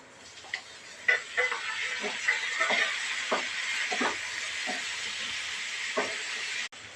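Chopped tomatoes hit hot tempering oil already holding mustard seeds, cumin and urad dal, giving a steady close hissing sizzle with small pops and crackles that ends abruptly.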